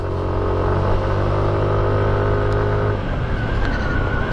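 A Yamaha NMAX scooter engine climbs a loose gravel mountain road with a loud, continuous close drone whose tone shifts and roughens partway through as it pulls hard.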